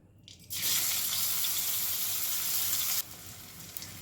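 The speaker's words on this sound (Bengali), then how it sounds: "এবারে আমি যে গোবিন্দভোগ চালটা ভিজিয়ে রেখেছিলাম জল ঝরিয়ে সেটাকে একটু ভেজে নেব" Drained, soaked Gobindobhog rice hits hot ghee and oil in a pan, bursting into a loud, steady sizzle for a few seconds before it drops back to a quieter fizz, close and with no talking.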